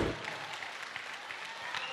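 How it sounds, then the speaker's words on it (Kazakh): An audience claps at a Kazakh bride send-off celebration, producing a steady, moderate patter of applause that lasts the full two seconds. "Жоқ, бұндай шапалақ болмайды."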